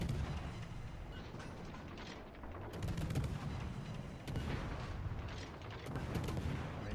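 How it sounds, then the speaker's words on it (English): Naval guns from the French cruiser Colbert fire broadsides in World of Warships Legends, with heavy booming salvos rolling one after another over a constant rumble of battle noise, loud and close. "wait till we get all the guns onto his broadside"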